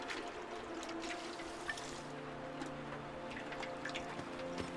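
Water pours and trickles as plants are watered in the video game Among Trees, a soft continuous stream with faint drips over quiet background music.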